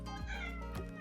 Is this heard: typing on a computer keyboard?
no